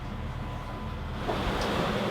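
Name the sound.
ocean waves around a sailing boat in the Pacific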